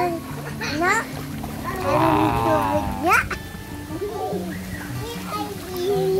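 Water splashes and sloshes as someone swims in a hotel pool, while children chatter and call out nearby.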